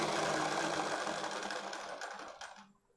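A sewing machine runs steadily and close up while stitching the boat neckline of a baby frock, a dense continuous whir that slows and stops near the end.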